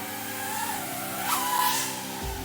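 An HDZero Moblight7 1S whoop FPV drone in flight gives off a thin motor whine that bends up and down in pitch as the throttle changes, fairly close and steady.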